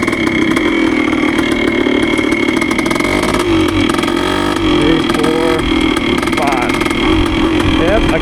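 A 1973 Yamaha CT3 motorcycle runs on its first ride after an engine rebuild, its small engine buzzing loudly and steadily up close with gear changes while a person talks over it.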